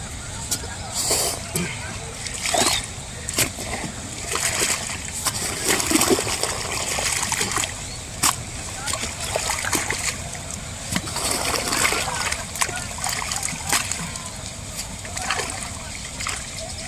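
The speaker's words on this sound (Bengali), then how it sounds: "এবারে এটাতে জলটা ছাড়বো" Irrigation water is let into a pointed gourd field plot, splashing and trickling steadily throughout with scattered sharper splashes, fairly close, with voices talking over it at times.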